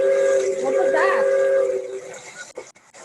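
A train whistle sounds a sustained, harmonic steam-whistle blast that swells in the middle and then fades, followed by a few brief clicks and soft noises.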